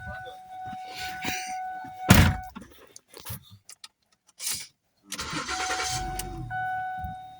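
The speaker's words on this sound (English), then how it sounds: "the car started" A Ford Edge engine cranks and catches after ECU programming in a workshop, with a sharp mechanical thunk followed by a steady idle that drops out and returns.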